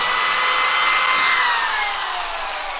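A power drill runs continuously at high speed, a loud whining motor tone that drifts slightly in pitch and tapers a little toward the end, during work on a 1997 Powerstroke tow rig.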